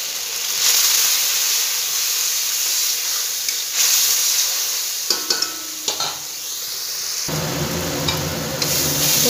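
Ground cumin and coriander spice paste frying in a pan for a cauliflower, potato and koi fish curry, with a steady bright sizzle and hiss, occasional scrapes of stirring, and a denser burst near the end.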